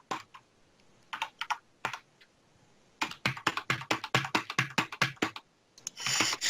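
Rapid bursts of computer keyboard typing in uneven clusters, close and fairly loud, with short pauses between runs and a denser flurry of keystrokes at the end, during a tabletop role-playing game session.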